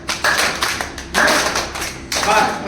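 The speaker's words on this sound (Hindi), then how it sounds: "हम ताली बजाते हैं" Hands clap during a simple clapping exercise, with four loud, close claps in an uneven rhythm, each sharp and bright, and brief pauses between them.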